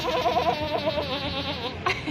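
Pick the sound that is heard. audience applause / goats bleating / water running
goats bleating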